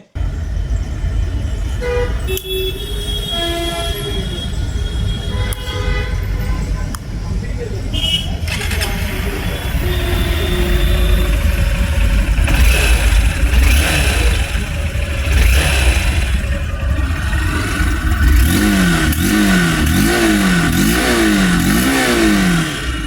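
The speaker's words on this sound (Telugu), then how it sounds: "ఒకసారి సౌండ్ కూడా వినండి ఎగ్జాస్ట్ది" A 2026 Honda SP 160 motorcycle engine rumbles and revs repeatedly through its exhaust, loud and close, with rising and falling bursts of throttle.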